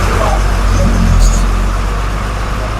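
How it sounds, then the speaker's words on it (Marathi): A state transport bus pulls out of Malshiras bus station, its engine a steady low rumble with road and traffic noise around it, while a voice talks over it. "तर मंडळी आपली बस निघते आता माळशिरस बस स्थानकामधून"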